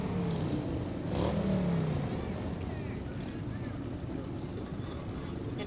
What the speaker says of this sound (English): Some very nice sounding motorcycles as well.